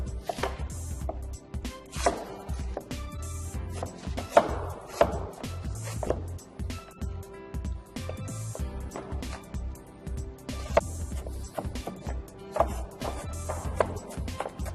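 A knife chops fennel and other vegetables on a cutting board, giving rapid, irregular close-up thuds and clicks in bursts, with a faint kitchen background and no clear talk.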